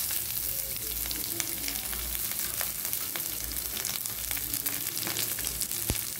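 Onion fries in oil for carrot rice, a soft continuous sizzle with crackles and occasional sharp pops, heard alone.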